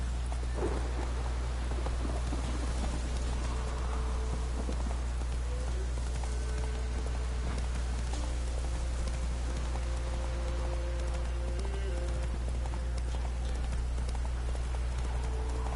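Horse hooves clip-clopping in steady rain in The Witcher 3, a continuous rhythmic trot over a constant rain hiss and low rumble, with faint tonal game sounds drifting in the background.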